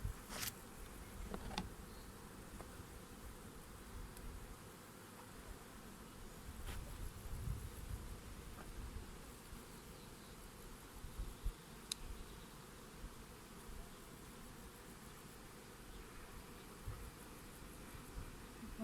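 Honeybees buzz softly and continuously around an open hive during a colony check before wintering, with a low steady drone, occasional faint taps and handling noises, and no talking.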